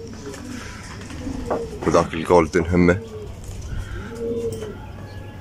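Pigeons coo in soft, low rolling calls, one clear coo near the end following a man's close speech, over a constant low background hum.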